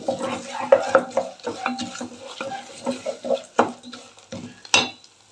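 Chana dal frying in a pan while being stirred, with a string of close spatula scrapes and clinks against the metal over a light sizzle.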